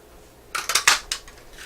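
Scissors cut excess paper off a Paper Pumpkin paper-craft project in about five quick, crisp snips clustered close together, with near-silence around them.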